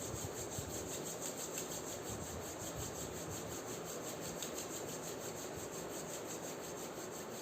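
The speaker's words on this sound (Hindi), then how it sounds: "अच्छी तरह से हाथों को रब करना है इस बार" Hands rubbed briskly together during a yoga mudra exercise, a steady, close, continuous dry friction that runs evenly throughout with no voices.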